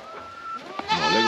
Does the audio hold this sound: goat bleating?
yes